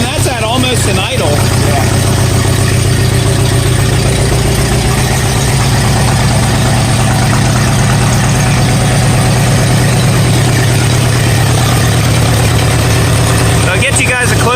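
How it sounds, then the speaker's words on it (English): An antique farm tractor engine idles steadily at close range, a loud, even low rumble with a fast regular firing pulse throughout, with a brief knock near the start and a voice speaking faintly over the running engine. "that's at almost an idle"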